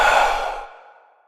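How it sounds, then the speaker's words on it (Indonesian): A single deep breath, a loud close inhale sweeping straight into a long, softening exhale that trails away, with no talking. "Sekarang, coba hirup napas dalam-dalam."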